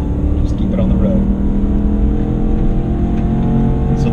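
A 2017 Ram Power Wagon in four-low at full throttle roars loudly and close, a dense, sustained engine drone with layered harmonics holding steady and strong throughout.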